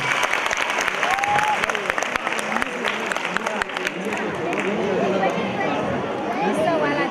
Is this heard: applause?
yes